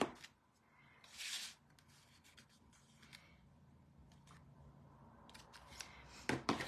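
Scissors trim the paper ends of a handmade fold card in a few short, quiet snipping and scraping cuts, with soft rustles of paper between them.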